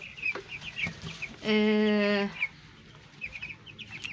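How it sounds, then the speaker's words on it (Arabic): White broiler chicks, 17 days old, cheep and cluck in a steady scatter of short calls, with one loud, sustained squawk standing out in the middle. "الفراخ كلها بصوا مبسوط فرحانين ازاي اهيت"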